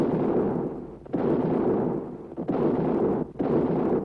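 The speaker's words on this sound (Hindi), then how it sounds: "21 तोपों की सलामी दी" Cannon fire of a 21-gun salute for the emperor at the Red Fort in Delhi during the 1857 revolt, heard as three or four heavy, rolling booms in close succession, loud and sustained, with no speech.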